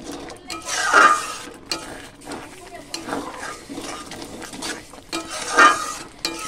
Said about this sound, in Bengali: ডিমটা যে ভেজে রেখেছিলাম এটা মিশিয়ে নিলাম